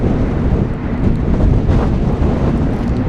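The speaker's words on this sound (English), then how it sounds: "It's not really raining, it's just really windy." Strong wind buffets the microphone during a bike ride in a constant heavy rumble, loud and close, with no other sounds standing out.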